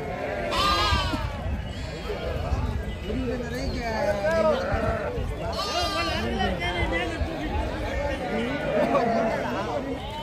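Sheep bleat repeatedly among a crowded flock at the Gudur sheep market, several wavering cries overlapping near and far over a steady hubbub of chatter and people talking.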